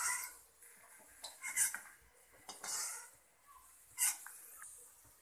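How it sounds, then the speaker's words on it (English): Fried groundnuts being scraped and tipped from a pan into a separate bowl, a few quiet metallic clinks and scrapes with soft rattling of nuts in irregular bursts. "Now the groundnuts are fried, I am taking it to separate bowl."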